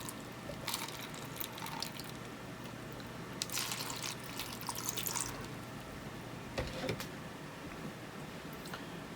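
Water poured into a container for rooting Hoya cuttings, a soft steady trickle with a few brighter splashy drips standing out, close and fairly quiet, with no one speaking.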